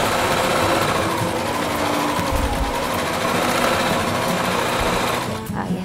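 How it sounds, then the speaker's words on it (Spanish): A sewing machine runs continuously, stitching thick fabric pieces for a segmented pouf. The motor and needle make a loud, steady mechanical whir close up, and it stops abruptly near the end. "hay muchas máquinas de coser que no son buenas para estas piezas tan gruesas"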